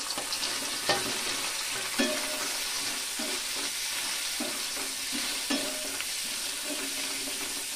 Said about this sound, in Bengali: গরম তেলে আমি এবার আলুগুলোকে দিয়ে দেব, কেটে রাখা আলুগুলো।